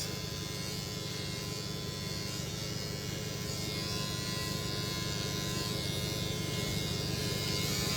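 An electric shaver running steadily against the neck, a close, continuous buzzing drone with a slight rise in level over several seconds, faint and uninterrupted.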